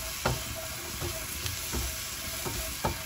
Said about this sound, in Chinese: 接下来锅烧热，下入辣椒，把辣椒炒出水汽，炒出香味。